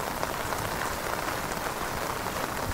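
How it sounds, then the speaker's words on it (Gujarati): Rain falls steadily on a housing society in Surat, a dense even hiss of drops with no pauses. "આ સોસાયટીમાં વરસાદ ચાલુ જ છે"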